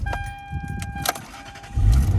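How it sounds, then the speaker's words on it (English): A Lexus LS starts up close by: faint clicks and electronic chimes, then the engine turns over and settles into a low rumble near the end. "whenever I turn the car on"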